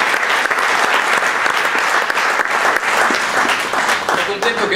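An audience at a theatre concert applauds a guitar maker with loud, sustained clapping from many hands, while a voice talks through part of it.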